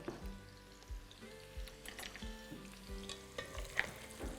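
Nadru (lotus stem) frying in hot oil for Kashmiri rogan josh, a continuous crackling sizzle with faint bubbling and occasional light knocks, close and moderately quiet, without voices.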